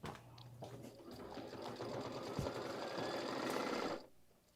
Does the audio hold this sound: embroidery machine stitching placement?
yes